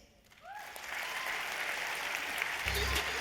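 Loud audience applause swells up to welcome two performers onto a stage, sustained dense clapping with a few cheers and whoops rising over it.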